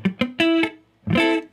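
Guitar barre chord played with poor fretting, giving muffled, buzzy plucked strums: a few short choppy hits, then a longer ringing strum, close and loud with no talk.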